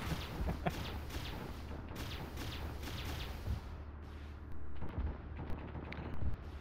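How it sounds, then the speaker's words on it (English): Plasma weapon fire in an Arma Warhammer 40K ODST operation, a series of sharp shots and heavy thumps in irregular bursts, some close and loud, some more distant, over a constant rumbling battle background. "Rob, that's you firing plasma, isn't it?"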